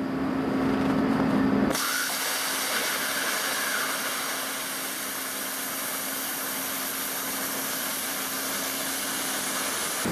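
A plasma cutter slices through metal, first a buzzing tone, then a sharp switch to a steady, loud hissing rush of the arc that carries on evenly for the remaining eight seconds.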